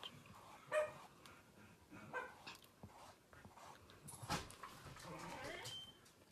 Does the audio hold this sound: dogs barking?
yes